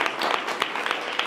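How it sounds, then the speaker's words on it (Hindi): Group of people clapping for a student at a school mock-test event for Navodaya, a brisk patter of hands at close range lasting about a second. "अरे बहुत तालियां उनके लिए।"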